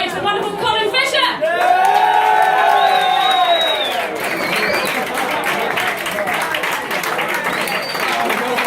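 A pub comedy audience in London cheers, whoops and applauds as a comic is welcomed to the stage, a loud burst of clapping and shouts that fades into scattered claps and chatter.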